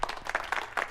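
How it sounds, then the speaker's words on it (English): A thin, weak applause sound effect from a podcast soundboard: a handful of sparse claps, about five in under a second, quick and light. "A couple weak claps."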